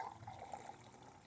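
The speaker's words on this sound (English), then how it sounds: "fill my cup up," Water runs from an RV tap into a cup, a soft, steady trickle and pour at close range, fairly quiet and continuous with no voices over it.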